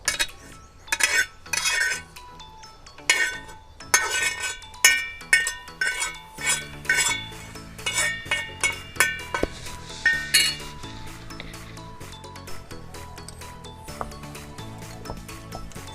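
An onion being pounded in a mortar and pestle for a spicy curry, heard as a long run of sharp, rhythmic knocks and clinks, close and fairly loud, the strikes steady then slightly softer and duller, with no voices.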